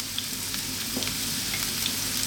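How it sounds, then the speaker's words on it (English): Onions and a generous amount of garlic frying in olive oil for a zucchini tomato bake, a steady close sizzle with faint crackles and occasional stirring scrapes, no voices. "We're going to add our onions and our garlic"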